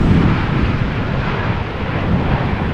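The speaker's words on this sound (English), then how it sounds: "now touching down, arriving from Alicante. Effortless landing" A Boeing 737-800 arriving from Alicante touches down at Amsterdam Schiphol in gusty crosswind, a loud, continuous broadband jet roar filling the whole moment at close range.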